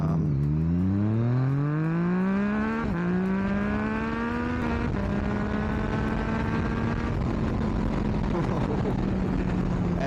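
Yamaha MT-09 motorcycle engine on the road, a loud, close, continuous drone that rises in pitch through the gears with brief dips at shifts, then holds a steady cruising tone with wind noise.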